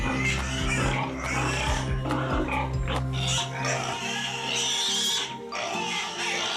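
Loud, chaotic squealing from many hungry sows at feeding time, overlapping and continuous, with grunts and sharp shrieks filling a noisy pig barn.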